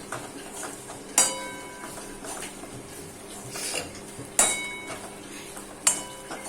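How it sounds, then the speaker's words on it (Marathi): Coconut dry-roasts in a kadhai while a metal spatula scrapes and stirs, with three sharp ringing clanks against the pan spaced a few seconds apart over a soft background rustle, close by and without speech. "इथे कढईमध्ये आता आपण खोबरं घेतलंय, खोबरं आपल्याला भाजून घ्यायचंय"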